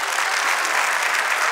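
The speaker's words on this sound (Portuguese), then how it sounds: "Vamos aplaudir isso." Congregation in a church breaks into applause, a loud, close and dense burst of clapping lasting a couple of seconds with no speech over it.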